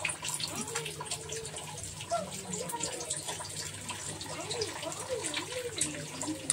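Water poured into a cooking pot makes a faint, continuous trickling and splashing flow, steady throughout at low volume.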